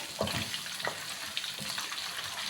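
Pork cartilage frying in hot oil until golden, a continuous crackling sizzle with sharper pops and bubbling bursts, close up and moderately loud.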